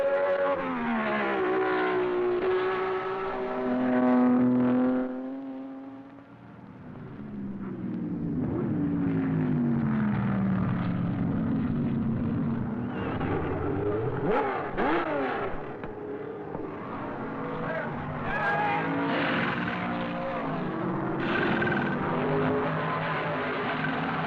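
Race cars at the Watkins Glen circuit, from open-wheel formula cars to unlimited-horsepower Can-Am sports racers, roar past loudly with engines rising and falling in pitch as they accelerate and pass, continuous and close.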